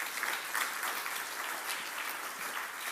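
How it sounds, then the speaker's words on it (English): An awards-ceremony audience claps steadily and warmly, a dense continuous wash of applause with no voices over it. "so please give him a warm round of applause"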